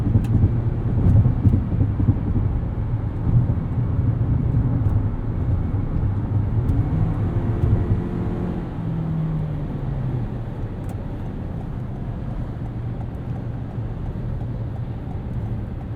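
A 2022 Toyota Corolla Cross XLE AWD accelerates hard from a standstill to 60 mph up an entrance ramp, its engine drone loud and steady from inside the cabin, rising in pitch and then easing into a quieter cruise.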